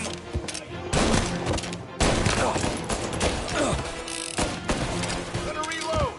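Gunfire rattles in Mafia Definitive Edition, with bursts of automatic shots and single cracks in quick clusters separated by short gaps, loud and close, with shouted voices mixed in.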